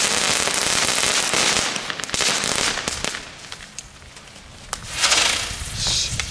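Consumer fireworks and firecrackers are set off outdoors, with sharp crackling bursts and pops coming in irregular clusters, loud and close, some swelling into longer crackle showers with quieter gaps in between.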